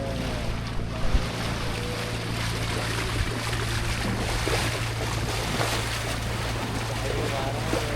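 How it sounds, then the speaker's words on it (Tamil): Fishing boat out at sea on a trip, with a steady low engine drone beneath constant wash of waves and gusty wind buffeting the microphone, continuous and fairly loud throughout. "கடல் எவ்வளோ அமைதியாக இருக்கு."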